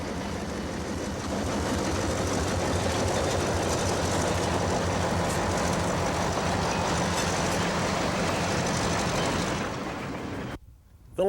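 Lima-Hamilton diesel locomotive running at the Illinois Railway Museum, working as a switcher: a steady, loud engine rumble with wheel clatter held for about ten seconds, then cutting off abruptly near the end.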